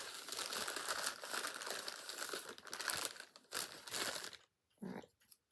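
Paper being unwrapped from a package, crisp crinkling and rustling in close bursts that stop and start, then fall quiet near the end.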